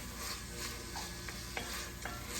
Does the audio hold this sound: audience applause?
no